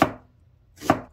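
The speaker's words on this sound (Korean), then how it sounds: "양파 하나 썰어주세요." Two sharp knife chops through an onion on a cutting board, a loud crisp strike at the start and another just before the end with quiet between.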